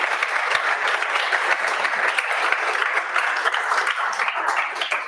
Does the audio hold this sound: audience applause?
yes